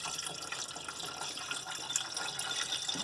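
Water gushing steadily from the radiator of a 1968 Buick Electra 225 barn find, a continuous close splashing flow with no talk over it.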